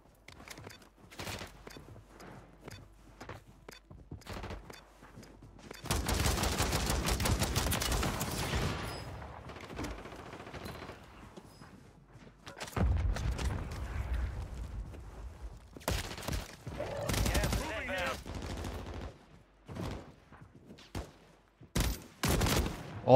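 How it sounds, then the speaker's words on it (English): Repeated gunfire from a Call of Duty Warzone match on Rebirth Island, including a shotgun, with a dense sustained burst around the middle and later clusters of sharp shots, fairly loud and mixed with game sounds. "Oh my god, shotgun."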